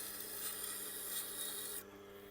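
Steady grinding rasp of a Japanese single-bevel knife held against a turning Tormek T8 sharpening wheel, continuous and close, with the scraping texture easing off abruptly near the end while the motor hum carries on.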